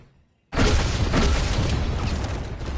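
A loud booming blast from a cannon in a video game bursts in after half a second of near silence, then a dense, sustained roar carries on without pause.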